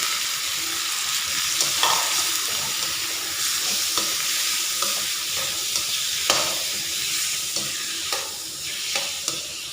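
Sliced pork stir-frying in a hot pan with garlic and shallots for a Thai curry, a steady close sizzle broken by occasional scraping stirs of the spatula, with no talking.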